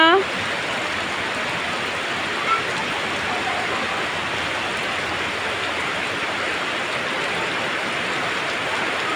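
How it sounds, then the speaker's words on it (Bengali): Heavy rain pouring down outdoors in Kishoreganj, a steady, dense hiss of falling water that stays even and close throughout, with a brief knock near the start. "বৃষ্টির শব্দ"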